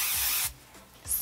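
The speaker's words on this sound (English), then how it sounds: "now I'm using the Kenra Volume Spray" Kenra Volume Spray hairspray hisses out in a short close burst, then stops, followed by a second brief spray at the end.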